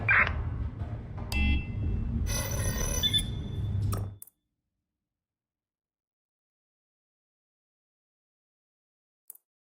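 An alarm blares in the video game Watch Dogs Legion, a loud electronic tone with bright beeping bursts for about four seconds before cutting off into near silence, with a faint click near the end.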